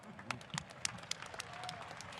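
Faint, brief crowd applause at an event tied to the National Sprint Car Hall of Fame at Eldora Speedway, scattered distinct claps over a soft background murmur, heard from a distance.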